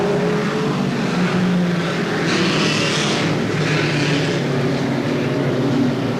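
Race cars lap Seekonk Speedway during a heat of weekly short-track racing in 1994, a continuous loud engine roar that swells and fades as cars pass close by, with steady crowd and track ambience underneath.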